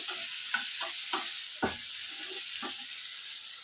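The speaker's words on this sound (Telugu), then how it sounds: "ఒక 2 నిమిషాలు దీన్ని సిమ్లోనే బాగా ఫ్రై చేసేద్దాము." Coriander chutney with tamarind and tomato frying on a low flame in a pan, a soft steady sizzle broken by several quick stirring scrapes and clinks of a spoon against the pan, close and with no talking.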